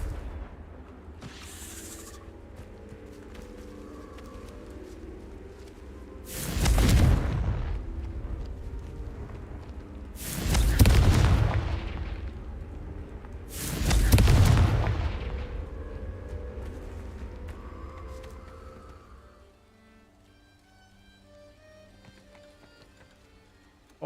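Three heavy Confringo spell explosions from Hogwarts Legacy burst a few seconds apart over a quiet game soundscape, each a loud deep boom with a rumbling decay.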